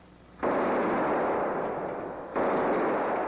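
Rifle fire during a small arms firing test: two loud, sustained bursts of blasting noise, the second starting about two seconds after the first.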